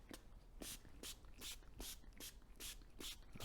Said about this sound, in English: I'm just gonna spray it liberally like this.